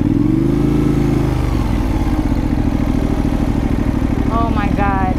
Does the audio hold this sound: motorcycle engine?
yes